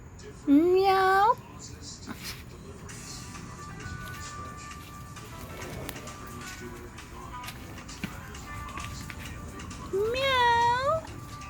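A friendly neighbor's cat meows in loud, rising and falling calls, one burst near the start and another near the end, while a person talks and calls to it in between.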